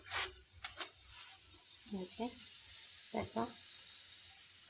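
Food pan-frying in oil gives a steady, close sizzling hiss that continues under brief bursts of someone speaking.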